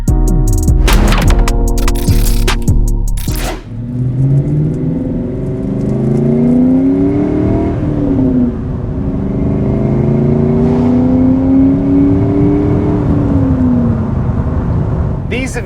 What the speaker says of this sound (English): Let's see what it does on the open road.